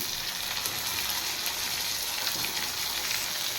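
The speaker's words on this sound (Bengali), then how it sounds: "পেঁয়াজটা হালকা ফ্রাই করে নিয়েছি, এবার আমি দিয়ে দেব কেটে রাখা বেগুন" Chopped eggplant lands in a pan of lightly fried onions and sizzles as a loud, steady hiss of hot oil that carries on without a break.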